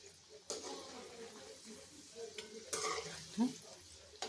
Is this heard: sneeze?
no